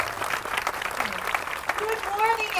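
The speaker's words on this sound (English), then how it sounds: "Please give a round of applause to Passion of Flamenco." At a grand opening ceremony for the Gran Destino tower, an audience claps for flamenco performers, scattered applause mixed with voices and brief tonal sounds over a short stretch.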